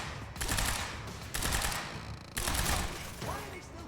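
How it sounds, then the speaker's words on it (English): Enemy automatic gunfire in the game Quantum Break rattles in three or four loud, sustained bursts separated by short pauses. "Why are they still shooting?"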